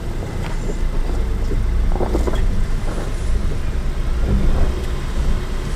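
A 2019 Audi Q3 creeps slowly downhill on an off-road mountain trail, giving a low steady engine rumble with scattered knocks and crunches from the terrain under the tires.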